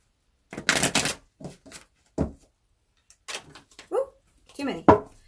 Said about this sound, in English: okay, I'm going to shuffle this up